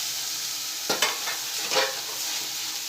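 Two small portions of finely chopped tomato sautéing in a pan for a stovetop pizza topping, a steady close sizzle with two louder bursts of stirring, no talk.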